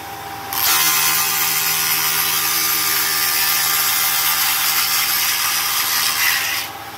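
A wooden piece is rounded against a spinning sanding disc, giving a loud continuous gritty rasp that starts abruptly, holds steady for about six seconds, then cuts off, with no talking.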